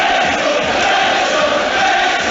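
Wrexham football crowd roaring and cheering during a National League match against Notts County, a thick, sustained wall of many voices from a packed stadium, loud and unbroken throughout.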